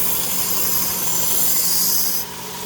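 A knife being sharpened on a Work Sharp Ken Onion blade grinding attachment, giving a loud, continuous abrasive whir close up that drops slightly in tone near the end.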